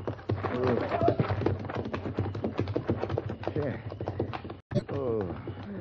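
Horses' hooves clip-clop in a rapid, steady rhythm at close range, set in a Western radio drama, running beneath voices speaking almost throughout, with a brief dropout near the end.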